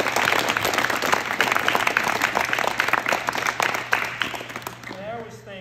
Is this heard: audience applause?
yes